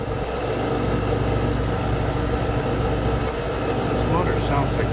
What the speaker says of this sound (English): This motor sounds like crap, Jim.